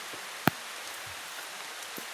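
Steady rain falls on farmland in a soft, faint, even hiss, with one sharp drip or tap near the start.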